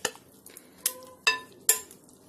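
A spoon stirs an egg and potato mixture in a bowl, giving four distinct knocks against the side over a low, soft scraping.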